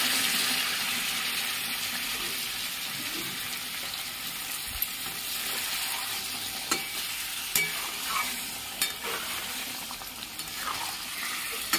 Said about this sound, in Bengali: এবার আমি সামান্য গরম জল দিয়ে দিচ্ছি